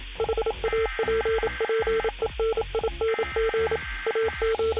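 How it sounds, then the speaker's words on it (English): Repeated electronic beep tones in a rapid on-off rhythm, like Morse code, play from in-game TVs teasing a Death Star sabotage live event in Fortnite, loud and steady with no talk. "If you guys go up to any of the TVs on the island that teases this live event, you'll hear some Morse code."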